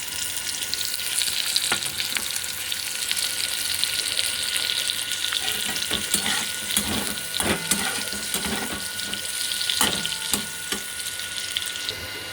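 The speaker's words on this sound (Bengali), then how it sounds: "তারপরে ভেজিটেবলগুলো ফ্রাই করব। আমি ভেজিটেবলগুলো ভেজে নেব।" Vegetables fry in hot oil for mixed noodles, giving a steady close sizzle with scattered stirring clatters and scraping throughout, with no talking.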